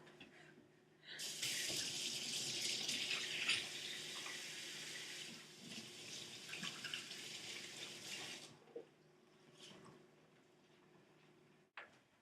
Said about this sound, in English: Now you have to wash your hands.